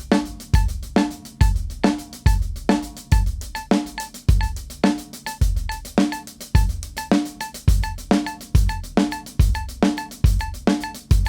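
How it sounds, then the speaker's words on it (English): Drum kit playing a steady triplet-feel groove, with every triplet subdivision struck on the hi-hat over repeating kick and snare hits; loud, close and evenly rhythmic, with no talking. "I'm going to play a normal triplet beat, but I'm going to have all my triplets on the hi-hat so you can hear them"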